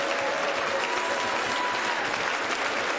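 A church congregation claps their hands together in sustained, dense applause, loud and continuous throughout with no pauses and no voices standing out.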